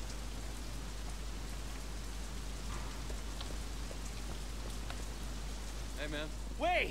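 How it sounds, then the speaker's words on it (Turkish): Steady rain pours over a city street in the video game Sleeping Dogs, a dense even hiss filling the whole stretch, with a brief whistling tone near the end. "Oo, yağmur da başlıyor."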